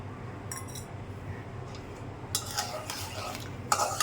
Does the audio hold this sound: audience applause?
no